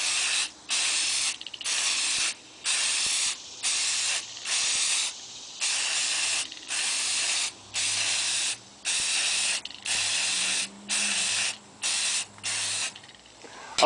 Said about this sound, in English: I just sprayed a light coat of the universal bonding primer